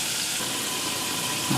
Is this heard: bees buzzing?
no